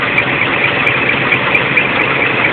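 A Scania truck engine holds a raised idle of about 800 rpm, a loud, steady, close diesel drone with an even low rumble and no pauses or speech.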